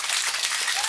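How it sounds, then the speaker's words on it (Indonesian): Crowd applause welcoming a dignitary and his wife at a village launch ceremony in Kampung Waang, Ranau. Continuous, dense clapping from many people is heard throughout at a fairly steady level. "berikan tepukan yang gemuruh kepada kedua-duanya."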